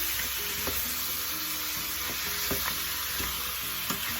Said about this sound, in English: that's the sizzle you want to hear